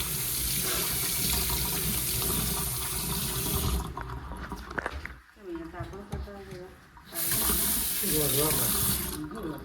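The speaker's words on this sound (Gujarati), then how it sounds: "અહીંયા હાથ ધોઈ દઈએ." A tap runs as hands are washed at a cave visitor site in Australia, a loud steady rush of water that cuts off briefly midway while people talk nearby, then gushes again.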